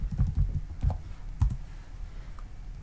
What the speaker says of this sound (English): So we're going to type in array.